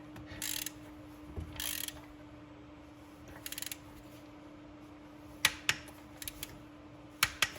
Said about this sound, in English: Let's torque down the bottom ones.